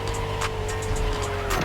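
A Honda NSX, a 1990s sports car, drives in The Crew Motorfest racing game, its engine holding a steady, loud drone with faint tire squeals breaking through now and then.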